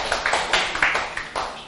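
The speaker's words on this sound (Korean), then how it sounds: "박수 주세요" Classroom audience applause during a lecture, several quick, close bursts of clapping from a small group, bright and snappy, lasting under two seconds with no talk.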